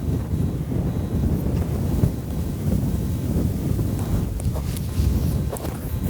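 Wind blowing across open Montana country during a pronghorn hunt, a steady low rumbling rush buffeting the microphone, close and continuous with a few stronger gusts, no voices.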